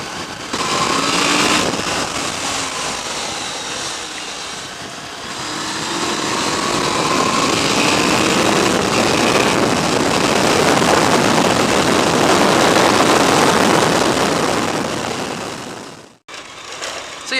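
A Honda VFR750 motorcycle engine drones steadily while riding, its loud whine rising and falling with throttle over heavy wind rush, with no talk.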